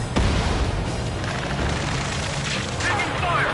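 Rapid gunfire and booming explosions from the Ace Combat 7: Skies Unknown air-combat game fill a dense, continuous barrage, with radio voices talking over the battle noise.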